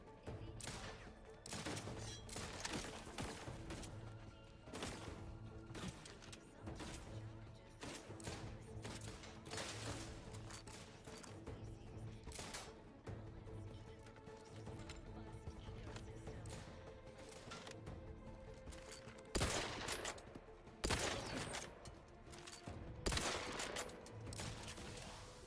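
Rifle fire in Outer Worlds 2 cracks out repeatedly, with sharp shots at irregular intervals over a steady game backdrop and a few louder bursts toward the end.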